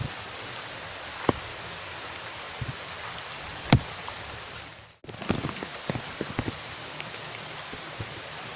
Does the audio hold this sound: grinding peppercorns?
no